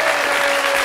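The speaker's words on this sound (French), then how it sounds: "On peut applaudir bien fort, hein?" An audience claps in dense, loud applause throughout a brief moment.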